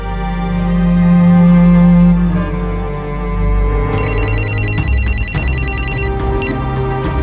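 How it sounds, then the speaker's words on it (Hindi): A telephone rings in an indoor setting, first a low tonal ringtone, then a brighter electronic trill repeating in quick pulses, loud and close with no talking. "सीमा बोल, क्यों बार बार फोन कर रही है"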